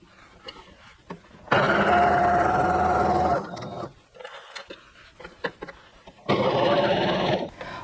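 A sewing machine stitching elastic onto a leotard, running in two steady whirring bursts of about two seconds each with a pause between them, close and fairly loud, with some handling noise in the gaps.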